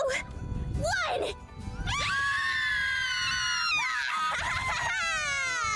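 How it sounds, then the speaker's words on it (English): Screaming on a roller coaster ride in the video game Highway Blossoms: Next Exit, loud sustained wailing screams that rise and fall in pitch, with overlapping voices and rushing wind behind them. "It feels weird to scream my lungs out."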